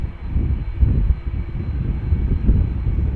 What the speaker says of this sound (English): an Airbus A330-300 outbound Montreal, 11 years old